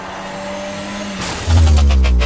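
A cartoon car drives along with a steady engine hum, then a sudden loud, deep thump as it strikes a person, followed by a rumbling impact tail.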